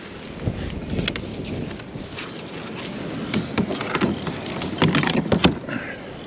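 Steady wind rushes outdoors near a canoe, buffeting the microphone with low rumbling gusts that swell and fade, along with faint thumps and knocks.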